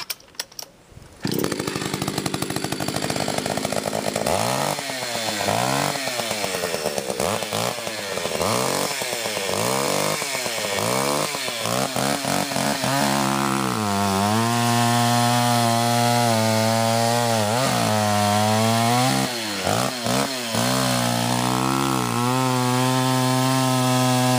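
A chainsaw runs alone, starting up then revving in repeated bursts before settling into a loud sustained cut through wood, its pitch dipping and climbing as the chain bites.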